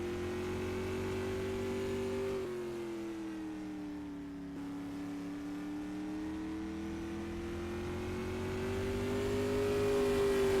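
Steady Steve Callahan's number 55 race car runs a warm-up lap on the front stretch during a time trial show. The engine drones at a sustained mid-pitch, dipping briefly before rising louder as the car draws nearer.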